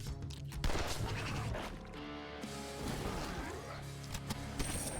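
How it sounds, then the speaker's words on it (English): Explosion in the video game The Last Spell, a burst of crackling, rumbling impacts layered with dense game sound effects and music, steady and fairly loud throughout. "That's 3, so we should get an explosion there."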